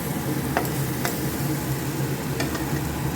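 A spice mixture is stirred in a pan for a Bengali potol dish, a steady frying hiss with a few light scrapes and taps of the spoon, close and continuous.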